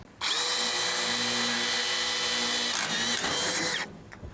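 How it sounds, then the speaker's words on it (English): A power drill whirs steadily at high speed for several seconds, then winds down, close and loud with no talking. "you drill a hole here, here, same on the other side"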